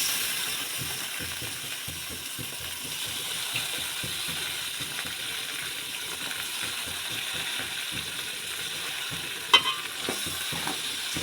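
Chicken frying with onion and tomato in a pan gives a steady soft sizzle under rhythmic scraping stir strokes, with a sharp metallic clink near the end.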